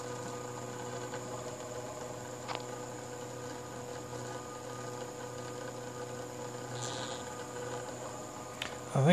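A reaction wheel motor spins on a self-balancing inverted pendulum, giving a faint steady whine and hum with a few soft clicks and a short bump at the end.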